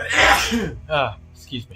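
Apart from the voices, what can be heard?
sneeze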